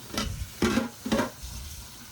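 Bottle gourd leaves are swished and rinsed in water, making three short, close splashing bursts followed by quieter dripping sounds.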